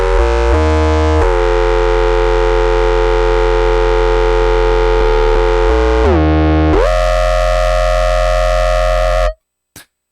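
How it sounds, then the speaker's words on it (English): A heavily processed synth tone built from two sine waves blares loud and distorted, with sustained notes that shift pitch in steps, then cuts abruptly to silence followed by a brief click. "This is literally just 2 sine waves, pretty much"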